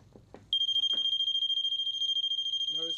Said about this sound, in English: when we set it down in the pool, the alarm will sound